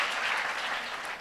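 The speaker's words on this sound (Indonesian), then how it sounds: "Kita kasih tepuk tangan yang meriah buat Tuhan kita." Church congregation at a Christmas evening service giving a brief burst of lively applause, a thick, even patter of many hands clapping for just over a second.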